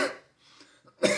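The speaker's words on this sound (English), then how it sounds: "Such as coughing." A single person coughs, a burst at the start, then a quieter gap with faint breaths before a second sharp, loud cough near the end.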